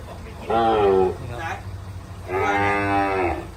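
Native cattle at a livestock market in Tak province lowing loudly and close, two long moos separated by a short pause, with a faint low murmur of the market behind.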